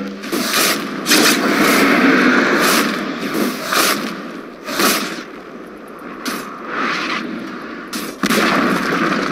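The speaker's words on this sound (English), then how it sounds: "Dire's middle tower is under attack" A Dota 2 battle as the Dire middle tower comes under attack, with repeated sharp bursts of impact and blast sounds in an irregular rhythm over a continuous busy game-effects bed.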